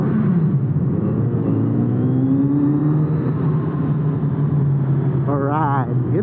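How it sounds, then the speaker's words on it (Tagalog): A Kawasaki Z900RS Cafe motorcycle idling and revving in a tunnel, a steady close engine rumble with rising exhaust tones that echo, while someone talks over it. "Tapos bobombahin nila yung mga muffler nila dito."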